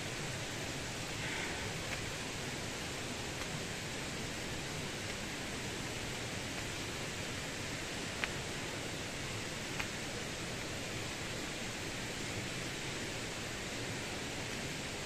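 Rushing water at the Poço das Antas pools along a nature trail gives a steady, unbroken roar that stays loud and even throughout, with no voices over it.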